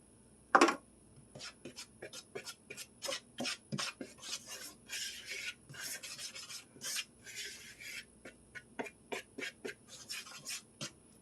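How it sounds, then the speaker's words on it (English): Baking soda, cinnamon and nutmeg are whisked together in a bowl, making a quiet run of quick, rhythmic scraping strokes against the sides, close and faint with no talking. "Just kind of whisking it all together and getting it all blended up."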